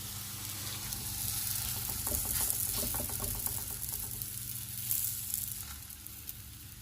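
An aloo paratha fries in ghee on a hot tawa, giving a steady, soft sizzle with faint crackles and brief stirring or scraping touches, close and fairly quiet, with no voices.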